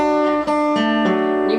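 Guitar playing a riff, sustained ringing notes with a few soft pick changes, loud and close, alone without talking.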